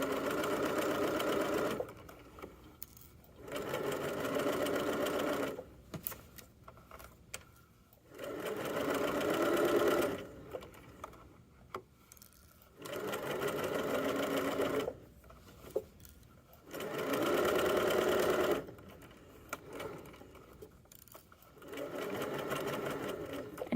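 A sewing machine stitches the side seams of pajama pants in repeated bursts of steady whirring, each lasting a few seconds and separated by quiet pauses.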